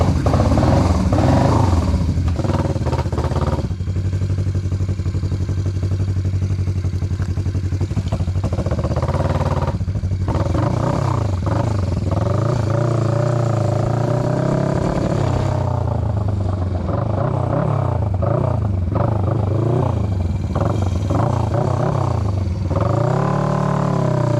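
A motorcycle with freshly fixed carburetors is ridden around the block, its engine repeatedly revving up and easing off with changing pitch, loud and near the whole time.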